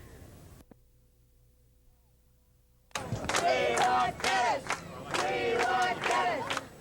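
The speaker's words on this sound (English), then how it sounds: "They cheered wildly as Wardlow announced Key West's secession from the Union" A crowd of several hundred gathered in an old square in Key West roars and cheers wildly in loud, surging waves after a brief quiet stretch.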